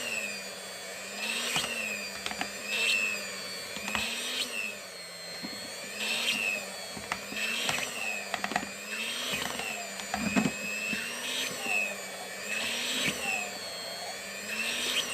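A hand mixer kneading eggless donut dough in a bowl, a steady motor whine that wavers and labours in repeated cycles as the beaters drag through the dough, with occasional knocks against the bowl.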